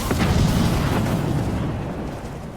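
An ion cannon blast in modded Skyrim Special Edition lands as a loud, heavy boom that rolls into a rumbling roar and slowly fades.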